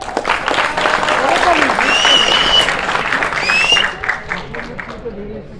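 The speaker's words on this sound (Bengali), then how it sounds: "তালি দেন" Applause from a crowd claps on for several seconds at a cycle stunt show, with loud voices and whistles over it before it tapers off.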